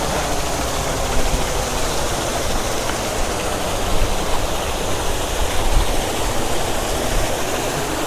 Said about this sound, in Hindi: हम लोग प्रतिदिन इस एरेटर को चलाते हैं